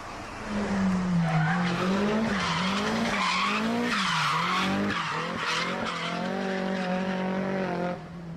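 An HPI RC car on drift tyres slides through a touge drift course, its high tyre squeal wavering and sweeping in a long, continuous skid over a steady whining motor, loud and close.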